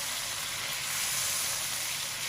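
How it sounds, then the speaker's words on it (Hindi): Chicken pieces fry in a karahi with a steady, close, bright sizzle and hiss that runs unbroken and alone, with no voices. "नाज़रीन 4 मिनट हो गए हमारा गोश्त फ्राई होते हुए"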